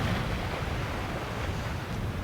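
Ocean surf washing onto the shore during an outdoor yoga session, a steady low rumbling roar mixed with wind buffeting the microphone, with no voices.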